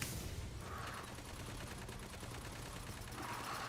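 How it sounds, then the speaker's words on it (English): Steady automatic gunfire in the Aliens: Fireteam Elite video game, bullets pinging and ricocheting off an armored Crusher's head in a rapid, continuous stream with no talking. "bullets ricochet off the Crusher's head"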